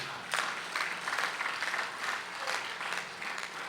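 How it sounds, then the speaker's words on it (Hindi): Audience applause during a live Shrimad Bhagavat Katha religious discourse in Raipur, Chhattisgarh: a steady wash of many hands clapping at moderate level throughout, with no speech over it. "अब बजाइए ताली"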